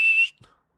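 A single short, bright tin whistle (penny whistle) note, steady and clear, then a faint soft knock as it stops.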